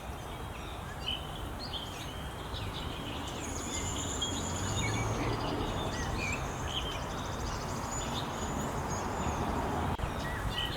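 Small birds chirping and calling intermittently outside a house in New York on an evening, thin high notes scattered over a steady outdoor background hum, fairly distant and faint.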